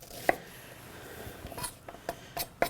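A knife makes the final cuts dicing an onion on a cutting board: a few sparse, sharp taps and scrapes spaced irregularly, close and fairly quiet, with no talk.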